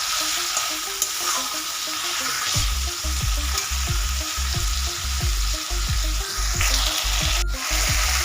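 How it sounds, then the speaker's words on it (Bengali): Potatoes being sautéed in a spice masala for a catla fish curry give a close, steady frying sizzle, with a regular rhythm of spatula scrapes and stirring strokes through the pan starting a few seconds in. "এখানে আমি আলুগুলো দিয়ে দিব। দিয়ে আর কিছুক্ষণ কষিয়ে নেব।"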